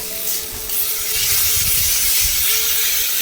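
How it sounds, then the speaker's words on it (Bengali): Spice paste (masala) frying in oil for a rohu fish curry, a steady loud hiss and sizzle with rubbing, scraping stirring sounds underneath, close and continuous. "তো মশলাটাকে আমি ভালো করে কষিয়ে ভেজে নেব যতক্ষণ না তেল ছাড়ছে"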